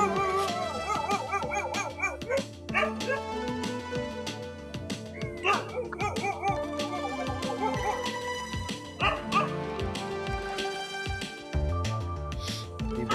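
A dog in Bangalore barks, yips and howls repeatedly, its calls rising and falling over several seconds close by, with voices talking in the background.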